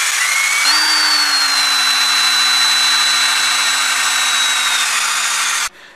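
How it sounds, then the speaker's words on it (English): A drill fitted with a 3/16 bit boring into plastic prescription bottle lids, a loud, steady whining motor held for about six seconds before stopping abruptly. "I'm going to start by drilling holes in the lids of the prescription bottles."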